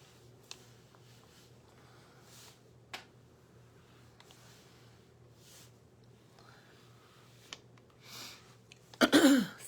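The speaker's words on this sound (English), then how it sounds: "I don't know why I keep clearing my throat today" A person clears their throat indoors. Near the end comes one loud, harsh, close burst, and a few faint clicks and taps sit in the quiet room before it.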